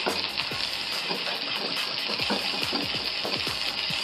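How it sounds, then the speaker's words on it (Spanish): Chicken breast frying in a pan, a steady bright sizzle running throughout with soft clatter and spatter as it is turned over. "Volteamos la pechuga para hacer una cocción completa"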